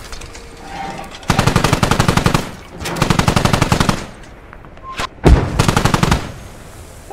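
Automatic weapon fire from armored vehicles in the military shooter Squad: several long, loud, rapid bursts separated by pauses, with a sharp single blast near the end and no talk over it.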